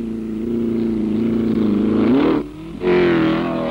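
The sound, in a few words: 1963 racing car at a circuit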